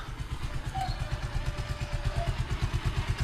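A motorcycle engine idles close by with a steady, throbbing putter that holds at a constant pace without revving.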